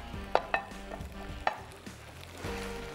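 Hot and sour noodles with an Asian twist being tossed and mixed in a hot pan, with a low sizzle and a few sharp utensil clinks against the metal, no voices.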